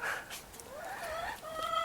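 Backyard chickens cluck and murmur continuously at close range, with soft overlapping calls from several hens and no talking.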